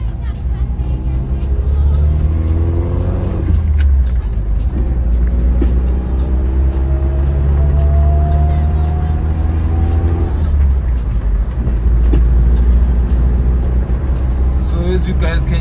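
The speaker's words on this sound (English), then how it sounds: "So as you guys can hear, we have a minor exhaust leak coming from the flange gasket." A Venture's car engine idles and runs with a minor exhaust leak at the flange gasket, a loud, close, steady rumble with a droning hum that briefly rises in pitch twice before settling back.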